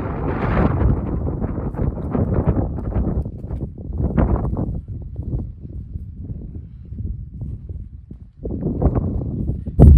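Strong wind on a hiking trail, buffeting the microphone in loud irregular gusts that swell and fade, low and rumbling throughout with no talk.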